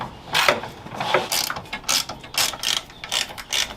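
Ratchet loosening the screws on the lower and upper chassis rails of a Renault 4L, about ten loud, close bursts of clicking in an even back-and-forth rhythm, with no speech.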